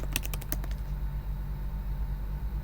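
Several quick keystrokes on a computer keyboard at the start as a command is entered, close and crisp, followed by a steady low hum with no further taps.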